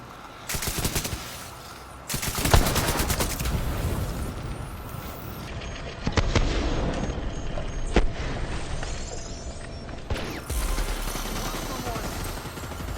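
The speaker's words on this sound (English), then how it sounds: "Blow this up and get another explosion going" In the shooter video game The Division 2, seeker mines and explosions boom and rattle amid sustained gunfire, loud bursts arriving in several waves with a player's voice occasionally heard over the combat.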